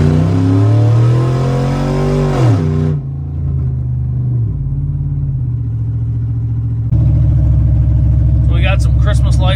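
Cammed Chevrolet Silverado pickup truck with a loud rumbling engine revving and accelerating, its tone climbing then dropping between shifts, with people talking over the engine noise inside the cab.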